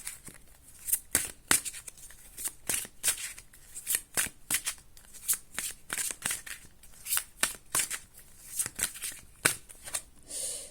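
Tarot cards are shuffled and drawn by hand in a quiet room: a steady run of soft, crisp riffles and slaps repeating at an uneven rhythm, close by, with no voices.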